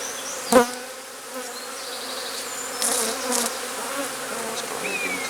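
Honeybees buzz steadily around an open hive during an inspection, a dense droning hum with a few louder bees passing close and brief sharp bumps.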